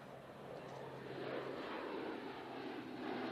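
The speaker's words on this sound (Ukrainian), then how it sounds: "У небо здіймається американський тактичний винищувач F-15, за ним український Су-27." Military fighter jets, an American F-15 and a Ukrainian Su-27, roar during an international air training exercise, heard as a steady, broad engine rumble at a distance without any break and with no voices.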